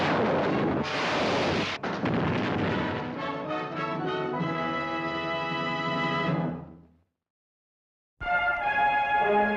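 Booming artillery fire effect from a 1950s science-fiction movie trailer: loud, sustained roaring blasts that rumble and fade, a brief silence, then another heavy burst starting abruptly.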